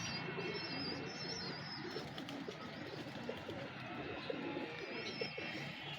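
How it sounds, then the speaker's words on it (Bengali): White golden pigeons coo softly and intermittently, several birds at close range, over a steady background of other bird calls and chirps with no talking. "এই দুইটা হোয়াইট গোল্ডেন কবুতর আরও এক পেয়ার আছে হোয়াইট গোল্ডেন"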